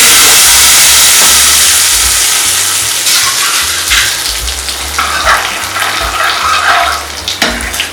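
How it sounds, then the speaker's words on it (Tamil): Appalam kootu bubbling in a pot with curry leaves: a loud, close, continuous hiss and sizzle of boiling liquid with popping bubbles that eases slightly over the seconds. "அது கொதிச்சிட்டு இருக்கு."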